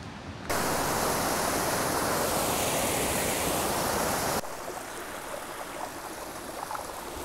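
Rushing river water at a trail river crossing near the Bear Ridge Trailhead in the Sierra on the Pacific Crest Trail, a steady broadband roar that jumps loud after a brief pause and then settles slightly quieter and more distant.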